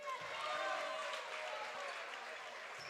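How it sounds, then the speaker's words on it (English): A crowd at a boys high school basketball game cheers and claps as player number 23 comes onto the court, a broad, steady roar with an announcer talking over it. "Big crowd pop for number 23, Mitchell Legal, as he enters the game"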